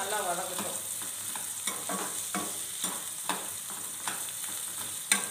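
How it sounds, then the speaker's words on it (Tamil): Mushrooms sauté in a pan with turmeric and green chili, giving a steady close sizzle and frying hiss broken by repeated soft scrapes and clinks of stirring. "போட்ட பிறகு கொஞ்சம் நேரம் நல்லா வதங்கட்டும்."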